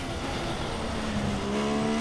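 A race car brakes into a corner on a track in Mexico and drops to second gear, its engine note falling and holding a loud, steady drone with a faint tyre squeal throughout.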